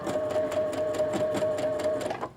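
A sewing machine hems a pair of pants with a steady, close, loud whirring hum and rapid rhythmic needle ticks running without pause, with no talking.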